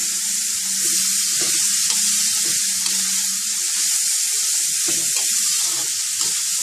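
Duck meat with offal sizzles and crackles steadily in a hot pan as it is stir-fried for spicy Isan larb, a loud continuous fry with occasional scraping stirs.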